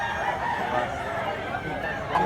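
Rooster crowing at a rural Cebu farm, a steady continuous call filling the clip, fairly close, with faint voices mixed in.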